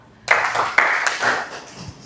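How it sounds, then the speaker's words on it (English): An audience at a coffee awareness event in Mbale claps for a speaker, a short, close burst of hand claps in a few uneven surges that taper off after about a second and a half. "even the clapping is not energetic"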